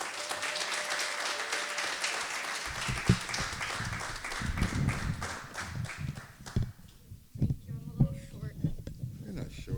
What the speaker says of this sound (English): please clap your hands for Angela Du